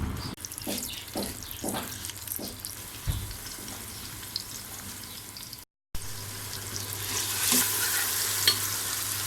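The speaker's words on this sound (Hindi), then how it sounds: "ऑयल गर्म हो जाए तो उसमें फिर प्याज डालेंगे।" Steady sizzling of onions frying in hot oil, with stirring and scraping sounds, loud and close, continuing after a brief cut.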